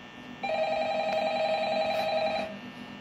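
Phone in the video game Five Nights at Freddy's giving one sustained electronic ring of about two seconds, steady and fairly loud, over a low background drone.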